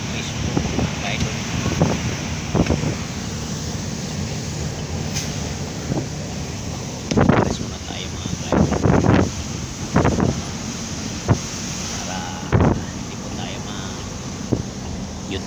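A boat at sea is battered by strong typhoon wind, with gusty roaring bursts and wave noise, loud against the microphone, while someone talks over it.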